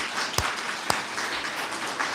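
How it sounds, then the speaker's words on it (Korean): A church congregation at an Easter Sunday service applauds to welcome a visitor, a short burst of clapping from many hands with a couple of louder claps near the front. "자, 박수로 환영하십시오."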